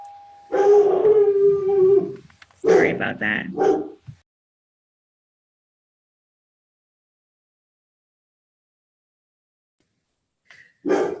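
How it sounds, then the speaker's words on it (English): A dog howls in a long drawn-out cry, then barks and yowls for a couple of seconds indoors, close and loud, with a brief voice before silence and a short sound near the end. "excuse my crazy dog"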